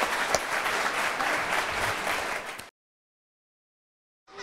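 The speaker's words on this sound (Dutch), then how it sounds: "Geef hem nog een applaus." Dense applause from a crowd claps loudly for a few seconds, then cuts off abruptly into silence before noise briefly returns.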